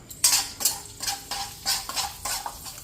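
Coarsely ground sesame powder being stirred into sesame oil in a pan for a festival offering: a spoon scrapes and clinks against the metal in a loose rhythm of about six close strokes, with a faint sizzle underneath.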